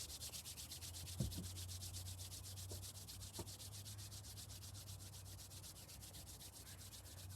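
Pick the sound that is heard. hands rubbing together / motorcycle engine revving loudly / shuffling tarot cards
hands rubbing together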